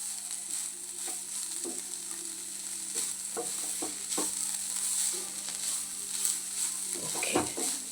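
A spoon stirs spinach kootu in a pan, making soft, close scrapes and sporadic clicks against the metal over a steady low sizzle, with no voices.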